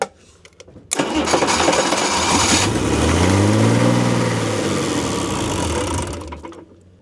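A Nissan SD-33 diesel engine being rebuilt to power a sailboat cranks and catches abruptly, running loud and close with a rough, wavering drone for about five seconds before winding down and cutting out.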